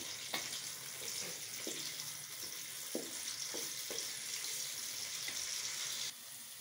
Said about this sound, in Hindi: प्याज को हल्का सा ब्राउन कर लेते हैं